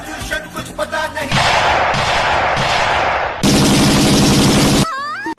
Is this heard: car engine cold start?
no